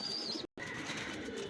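Pigeon chicks sick with pox give thin, high peeping calls over a noisy indoor background, broken by a brief silent gap partway through.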